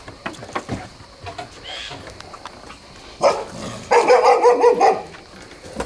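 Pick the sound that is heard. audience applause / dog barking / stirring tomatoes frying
dog barking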